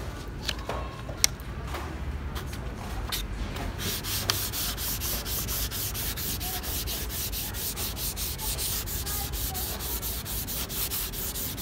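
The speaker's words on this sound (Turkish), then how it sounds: "Şimdi 0 numara zımpara yapacağım. 0 zımpara dediğimiz 1200'lük zımpara kullanacağım." Continuous rhythmic wet sanding of a fiberglass-coated model submarine with 1200-grit paper, rubbing back and forth in quick regular strokes, close and steady with no talking.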